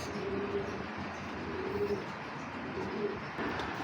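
Giribaz pigeons coo in a loft, soft repeated throaty calls rising over a low background hum at a moderate distance.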